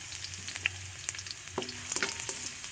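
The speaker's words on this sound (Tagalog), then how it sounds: "Haluin ang kaunti." Garlic and onion sauté in a hot pan for a Filipino mung bean stew, giving a steady close sizzle broken by scattered scrapes and light clicks as the ingredients are stirred, with no voices.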